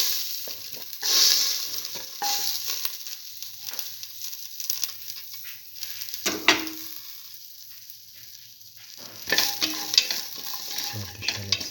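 Shallots sizzle and fry in a hot pan while being stirred, with scraping and clinking bursts of stirring near the start, around six seconds and again near the end, and no talking.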